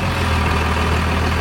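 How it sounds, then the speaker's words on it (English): A 2nd gen Cummins diesel truck engine runs steadily just after a cold start in warm Florida weather, loud and close with a dense, rumbling clatter and no pauses. "Cold start in Florida."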